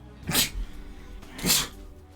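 Two sharp human sneezes about a second apart, the second slightly stronger, close and loud against a low background hum, with no talking.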